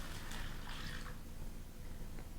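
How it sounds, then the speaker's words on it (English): Water is poured into a pan of frozen tomato, giving a soft, quiet splashing trickle that fades after about a second into low background hiss. "I'm going to start adding water"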